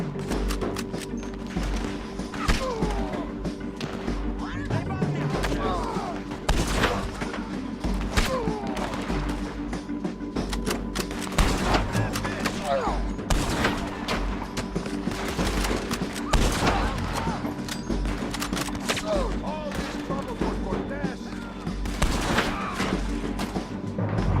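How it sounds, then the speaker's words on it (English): Rifle fire in Red Dead Redemption 2 comes as a dense, sustained run of overlapping shots and thuds over a constant low game rumble, with no pauses across the whole stretch. "Que merda esse rifle."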